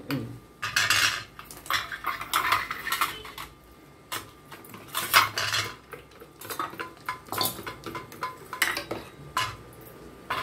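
Sabudana idli mixture stirred in a metal pot with a spoon, repeated sharp scraping and clinking strokes in an irregular rhythm, close and fairly loud with no talk.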